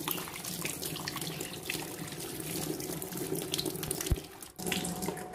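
Water runs steadily from a kitchen tap during washing up, a constant close splashing hiss with no talk.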